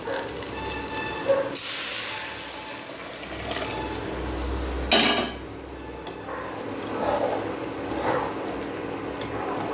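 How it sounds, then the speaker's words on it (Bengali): Dal poured into a hot pan bursts into loud hissing and sizzling, with two sharp surges of steam among close metallic pan clatter. "এবারে ডালটা আমি ঢেলে দেবো।"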